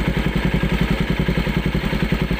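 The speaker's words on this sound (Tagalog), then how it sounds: "yung tunog niya ng motor." Honda NS200 motorcycle engine idling after an EGB oil change, a steady close, loud mechanical thrum with an even, rapid pulsing beat and light clatter throughout, no talking.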